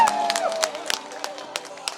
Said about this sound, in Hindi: एक बार जोरदार ताली से बजा दीजिए